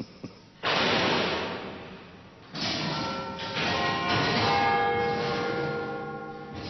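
Great bells of the Westminster clock tower, Big Ben, struck by their hammers. Loud ringing strokes sound at about 0.6 s, 2.5 s and 3.5 s, and each long, humming decay overlaps the next.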